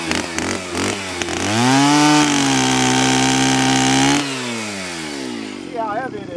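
Chainsaw cutting firewood rounds up close, sputtering at idle, then revving to a loud sustained whine through the cut before the engine drops back to a rough idle.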